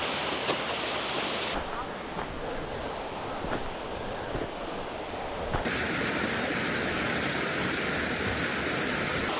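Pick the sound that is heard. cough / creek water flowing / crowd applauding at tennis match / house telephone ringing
creek water flowing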